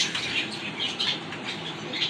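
A restless, active female pigeon flaps its wings, giving a soft papery flutter of repeated rustling bursts over a steady hiss, with no voices.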